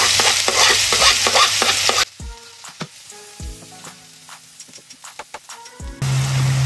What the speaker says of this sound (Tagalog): And saute garlic and onion.